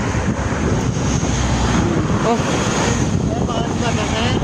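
Steady, loud wind roars across the microphone throughout, with a person briefly exclaiming.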